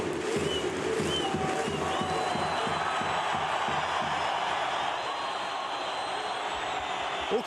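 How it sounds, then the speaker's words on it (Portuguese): Stadium crowd at the end of a Cruzeiro cup football match, a dense sustained roar of cheering and rhythmic clapping, loud and continuous throughout. "ali eles chamam a torcida para aquelas palmas"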